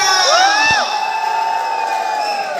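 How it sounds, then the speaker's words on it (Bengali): A crowd cheers and shouts loudly at a film cast event, with whoops and rising yells over a continuous roar of voices throughout. "সবার চিৎকারটা যেন না থামে"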